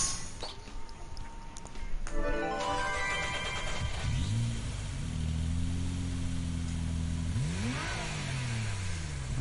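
A turbocharged swapped car engine in the Gran Turismo 7 racing game revs up and settles, with rising and falling harmonic tones over a mid-level engine drone and no talk.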